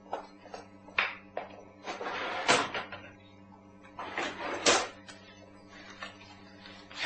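A drawer is pulled open indoors, giving a series of wooden knocks, rattles and scraping slides, some fairly sharp and close, over a faint steady hum.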